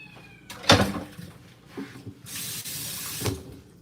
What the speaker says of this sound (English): I'm going to wash my hand in my kitchen sink